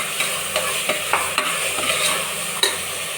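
Tomato and masala stirred and frying in oil for a vegetable biryani, a steady close sizzle broken by regular spoon scrapes about every half second, with no voices.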